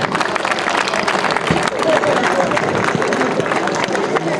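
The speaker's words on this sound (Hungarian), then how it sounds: "kérek egy nagy tapsot nekik" An audience gives applause for the Szentgyörgyi Sólymok, a Hungarian heritage group, at a traditional-culture demonstration event: a dense wash of clapping from a crowd, steady and fairly loud, with some voices mixed in.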